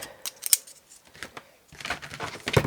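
Scissors cutting green paper, close-up crisp snips and rustles in a quick irregular series, with a louder burst of cutting near the end.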